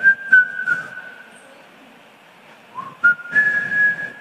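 A voice imitates a husband whistling as he arrives home: a clear sustained whistled tone, broken by a short pause, then resumed for several more seconds. No words are spoken.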